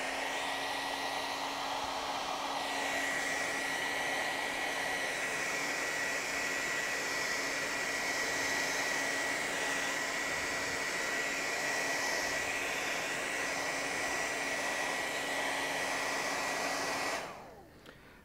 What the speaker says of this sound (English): use your hairdryer set on high and hot